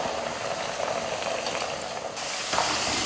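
Tuber pieces frying in hot oil for a crisp South Indian side dish, giving a steady, dense crackling sizzle that holds throughout with no talk.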